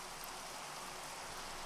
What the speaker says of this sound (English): let's get rid of this rain first of all, because it's driving me insane